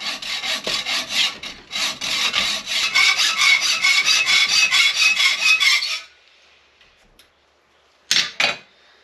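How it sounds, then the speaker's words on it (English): Hand saw cutting through a metal rod during a Stromberg 97 carburetor install on a 1937 Ford, heard as rapid rhythmic back-and-forth rasping strokes for several seconds, then quiet and two brief scrapes near the end. "but I'm going to cut this rod"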